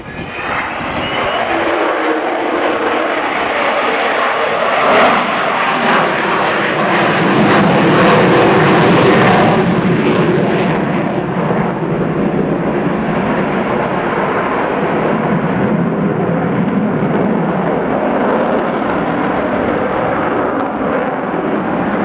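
The Avro Vulcan XH558 bomber flies overhead at an air show, a loud sustained jet roar that swells and holds for over twenty seconds, with a broad rushing rumble.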